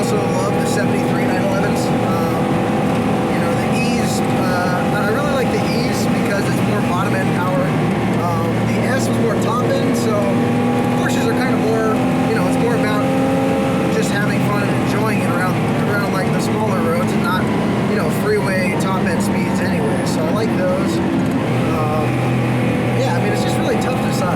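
A Porsche 914/6 being driven, its steady engine drone running throughout at close range while people talk over it.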